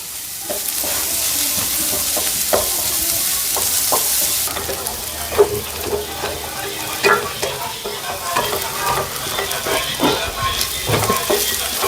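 Shallots and onions fry in a pan for a Kerala-style duck curry, a steady loud sizzle with scattered clinks and scrapes of a spoon stirring, no talking.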